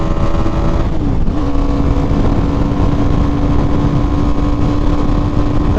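A 2018 BMW G 310 R, a 310cc motorcycle, holds high revs near 8,000 RPM at about 83 mph, giving a loud, steady engine drone with a sustained whine and rushing wind, no voices.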